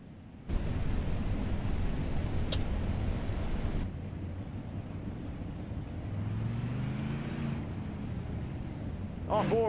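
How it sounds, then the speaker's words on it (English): Dirt modified race cars running on the Knoxville track in a racing sim, a steady loud engine roar with shifting pitch, dipping in level partway through. "Let's listen to these cars."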